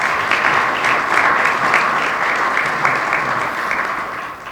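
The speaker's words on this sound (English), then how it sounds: "Let's give them a round of applause." A crowd at a chamber of commerce annual meeting claps steadily in sustained applause, holding strong before tapering slightly toward the end.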